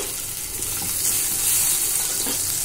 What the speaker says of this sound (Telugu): ఈ ఉల్లిపాయలు కొంచెం వేగాలండి, పచ్చివాసన పోయే వరకు